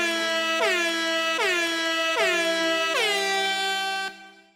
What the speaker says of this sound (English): Sad air horn music.